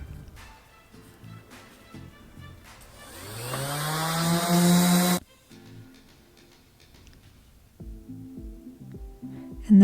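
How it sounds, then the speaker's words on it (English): Power sander with 120 grit sandpaper smoothing raw wood on refinished furniture, a loud rising whir that runs for about two seconds and cuts off, with quieter clunks and handling noises before and after. "Then I'm going to use my 120 grit to make it just a little bit smoother."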